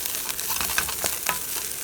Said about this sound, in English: Got the shredded carrot frying away.